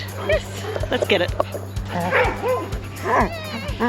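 At a doggy daycare, dogs whimper and yip in short, high whines, with a few bark-like bursts, close to the microphone. People talk over the whimpering and a steady low hum runs underneath.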